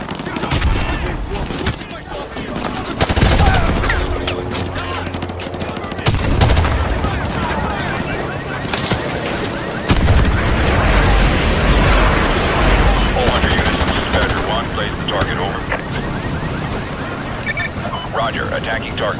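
Heavy gunfire and explosions in a Call of Duty Modern Warfare 2 Remastered battle against a sentry gun, loud sustained automatic fire with booming blasts throughout, mixed with voices.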